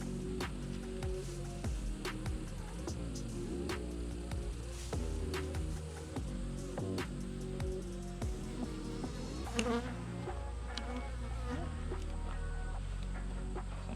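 Agitated honey bees swarm and buzz loudly around an opened top-bar hive being worked for small hive beetles, a dense continuous drone close by with scattered sharper wingbeat passes and no talk over it.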